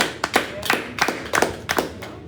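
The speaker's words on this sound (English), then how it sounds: "Give them a big round of applause." Short bursts of clapping follow a football-themed pub quiz as the audience applauds the winning team, about six separate sharp claps or small clusters spread unevenly over two seconds, fairly close and sparse, with no one talking.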